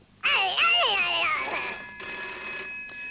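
An old telephone rings loudly in a studio setting, a trilling electric bell burst that stops abruptly, followed by a faint after-ring.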